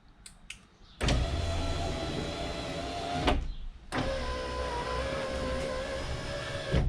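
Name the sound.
BMW electric power window moving up and down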